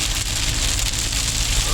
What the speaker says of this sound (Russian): на самом деле ливневые дожди пришли